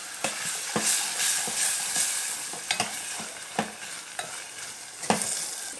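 Tomato masala with ginger and garlic sizzles in a pan for chilli fries, stirred in sharp scraping strokes that recur every second or so over a constant fry hiss.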